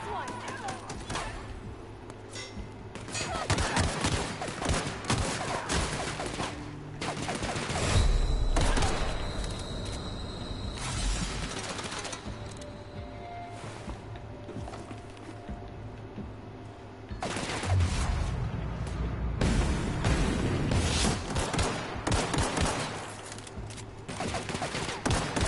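Pistol fire in The Outer Worlds, scattered sharp shots in irregular bursts over a background of game ambience, with someone talking at times between them.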